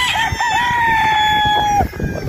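A national banded battlestag gamefowl rooster crows on a farm, one loud, close, sustained cock-a-doodle-doo with a long held note, alone without talk.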